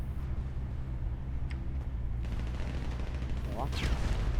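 Constant rumbling explosions and bursts of gunfire from a FiveM King of the Hill battle game, with a few sharp zips and whooshes over a dense, steady background.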